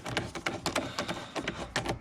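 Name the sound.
tightening intake tube clamp at the throttle body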